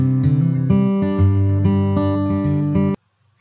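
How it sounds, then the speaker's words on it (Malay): Guitar strings are plucked in a quick run of bright, ringing notes, close and clear, with each note sustaining into the next until the sound cuts off abruptly into silence. "ini adalah bunyi gitar"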